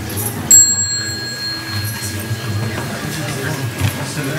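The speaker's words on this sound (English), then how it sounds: "the sound of the small bell" A small meditation bell in a meditation hall is struck once near the start, its clear metallic ring hanging and slowly fading over several seconds above a low background hum and faint voices.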